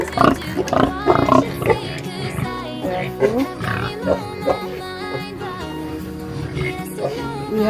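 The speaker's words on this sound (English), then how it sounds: "have four pigs." Pigs grunt and oink in a pen on a pig farm, a close, loud cluster of grunts that thins into scattered calls, with no talking.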